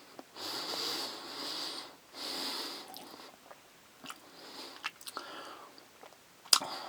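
Close, quiet chewing of a taco-flavored Smucker's Uncrustables savory sandwich, mostly soft bread with little meat, in several bursts of moist munching separated by pauses, with small sniffs and mouth clicks toward the end and no talking.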